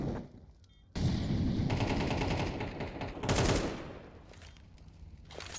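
Sustained automatic gunfire on the Mirage map of the video game Counter-Strike, a dense loud barrage of overlapping shots that swells and fades with a few sharper bursts near the end.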